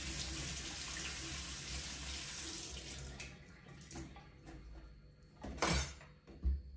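Tap water runs steadily into a sink as a lemon is washed, a continuous close splashing stream that eases off after a few seconds, followed by a couple of brief louder splashes and knocks.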